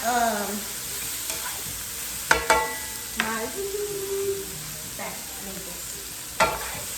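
Vegetables for a plant-based spaghetti sauce frying in a pan and being stirred, with a steady sizzle broken by sharp scraping and clacking strokes of the utensil; close and moderately loud, no talking.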